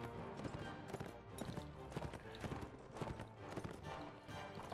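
Hooves of many cavalry horses clip-clop continuously in a Mount & Blade Warband battle, a dense, steady clatter of overlapping hoofbeats with a constant background rumble and no pauses.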